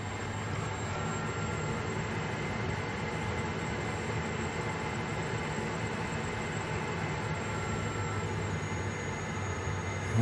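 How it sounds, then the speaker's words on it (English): Blower fan of a Rheem tankless water heater running, a steady even whir with a low hum and a faint high whine, continuous and unchanging at close range. "The blower's going."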